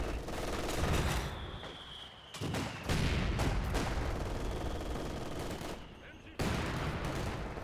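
Machine gun bursts and mortar barrages from a Company of Heroes 2 battle crackle and thump in dense, overlapping volleys, with sharp drops between bursts and a near, loud, chaotic mix.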